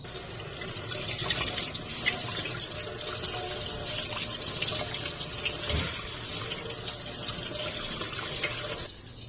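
Water runs steadily from a tap while lotion is rinsed off skin, a soft continuous splashing hiss with small shifts in flow, lasting about nine seconds with no talk.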